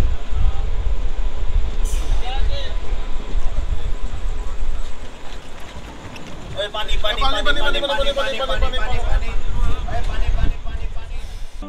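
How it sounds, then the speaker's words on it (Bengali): A sleeper class train on the Kolkata to NJP route pulls away and runs along the rails, giving a low rumbling roll with rhythmic clatter and a brief squeal partway through, loud and close from inside the carriage. "যত পারি ট্রেন ছেড়ে দিচ্ছে"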